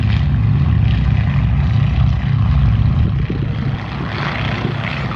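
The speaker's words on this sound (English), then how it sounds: "And that's somewhat of a 2-ship takeoff formation." Two propeller airplanes take off in formation at the Flying Circus Airshow in Bealeton, Virginia. Their engines give a loud, steady, close droning roar throughout, with no talk.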